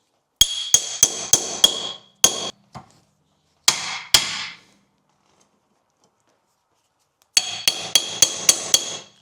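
Sharp metallic hammer strikes on a BMW iX front drive axle ring out in quick bursts, several blows at a time, separated by short pauses and a longer silence.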